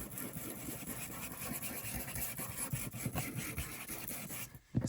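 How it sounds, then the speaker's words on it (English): Crayola cardstock is sanded around its edges, a steady close scratchy rubbing that goes on for several seconds and stops abruptly near the end. "Sand around the edges."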